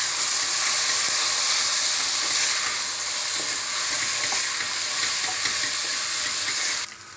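Ezogelin soup ingredients are stirred in a hot pot, producing a loud, continuous close sizzle and hiss that holds steady and then drops off abruptly at the end.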